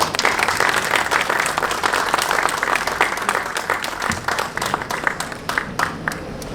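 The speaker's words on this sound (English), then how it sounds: "Let's have another round of applause for Carol." An audience applauds warmly at a ribbon cutting for the Residences at Hinchliffe in Paterson, a dense, steady burst of many hands clapping that lasts throughout.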